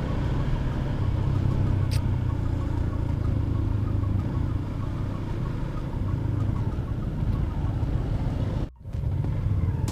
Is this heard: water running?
no